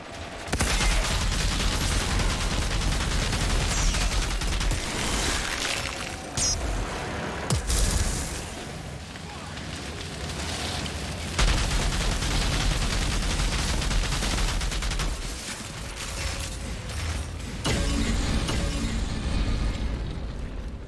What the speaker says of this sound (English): I gotta get out of range of that sniper.